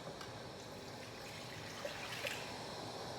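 Warm water pouring into a cup as the first step of keto low-carb sandwich bread dough, a steady soft trickle and stream running close by with no talk over it.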